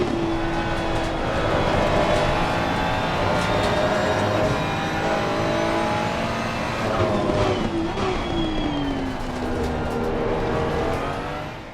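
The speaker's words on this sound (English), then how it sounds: "The 296's turbocharged V6 motor produces a less sonorous cockpit tone" A Ferrari 296 GT3's turbocharged V6 drones loudly from the cockpit in Assetto Corsa Competizione, rising and falling in pitch through upshifts and downshifts with a raspy, continuous tone.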